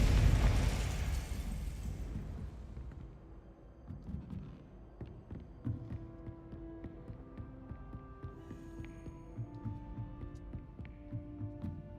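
Confringo fire spell explosion in Hogwarts Legacy: a loud, full-bodied burst opening the clip and decaying over about two seconds, followed by a lower hum with soft pulsing thuds and small pops.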